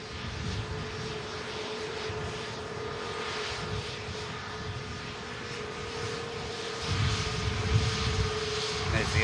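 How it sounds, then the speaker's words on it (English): Air France airliner taxiing across an airport, a steady broad engine roar at a distance with a whine running through it, swelling slightly near the end. "There's the Air France taxis across."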